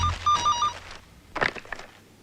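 A telephone rings with a few short bursts of electronic ringing, then falls quiet, followed by brief knocks and rustling nearby.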